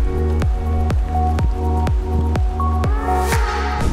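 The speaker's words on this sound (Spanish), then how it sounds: "Está lloviendo un poquito aún" Light rain keeps dripping steadily onto a surface at a stop in the Andean canyon country near Jauja and Canchayllo, Peru, with evenly spaced drops over a constant low rumble, probably an idling vehicle.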